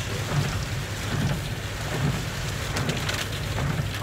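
Heavy rain pounds the road and vehicle during a storm chase, a constant loud hiss of drops with low rumbling underneath, steady for the whole stretch.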